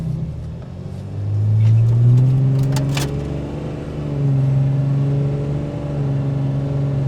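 A 6.7L Cummins diesel truck fitted with a BD Screamer turbo accelerates nearby, a deep rumbling engine rising and falling with the revs as a faint turbo whistle runs over it, with no talking.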